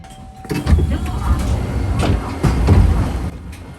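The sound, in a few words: train pulling into station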